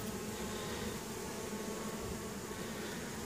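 Honey bees, including young house bees, buzz at an opened hive during a hive split, a steady faint swarm drone with no voices.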